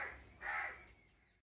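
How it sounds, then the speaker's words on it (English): Birds call loudly outdoors in a crow-like cawing burst that swells midway and then fades, with no talk over it. "Sorry for the bird sound because I don't know why they are going"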